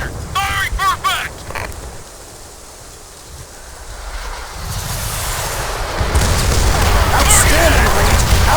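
An artillery barrage strikes in the Call of Duty: World at War campaign: shouted voices give way to a deep, swelling rumble of explosions that grows louder and fills the scene toward the end.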